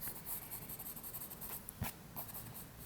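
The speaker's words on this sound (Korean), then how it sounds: "머리카락도 볼륨감 있게 그려줍니다." A 4B pencil sketches hair on paper in quiet, soft scratchy strokes that run steadily, with one slightly sharper stroke partway through and no talking.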